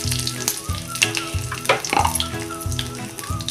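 Cloves, cinnamon, curry leaves and asafoetida sizzle in hot oil for a tempering, a close crackling fry with bursts of spitting and clattering stirs, with no voices.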